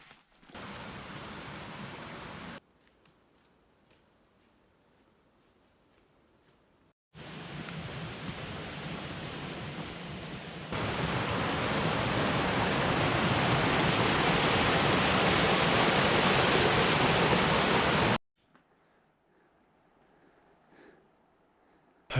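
Rain falls on the Colorado Trail in bursts of steady broadband hiss, starting briefly, pausing, then returning louder and sustained for several seconds before cutting off to near quiet.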